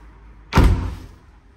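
A house door to the outside swings open with one sharp, loud knock of wood and latch, then a short fading rumble, heard alone in a quiet interior.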